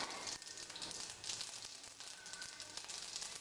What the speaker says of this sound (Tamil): இப்போ இந்த கடுகு நம்ம இப்போ எடுத்து வச்சுருக்கோம்ல அதை போட்டு தாழ்த்துக்குவோம்